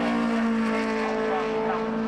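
A Ford Escort WRC race car drones steadily past on the Snetterton circuit, its engine holding a loud, continuous tone for the full two seconds with no break.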